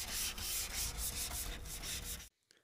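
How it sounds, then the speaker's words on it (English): Block sanding a body line on a car's rear quarter panel: steady rhythmic rasping strokes of abrasive paper on a sanding block, close and loud, stopping abruptly near the end. "going to do a little bit of blocking and shaping of that body line and blend it in basically to the rest of the quarter panel"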